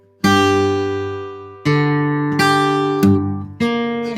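Acoustic blues guitar playing the third measure of a fingerpicked line, four or five plucked notes and chords ringing out clearly, close and alone.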